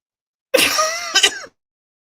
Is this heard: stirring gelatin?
no